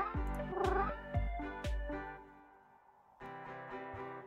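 Cartoonish cats in the video game Mushroom Cats give a quick run of short, bright meows, then a pause, then a softer sustained cat call. The sounds are close and clear, with no talking.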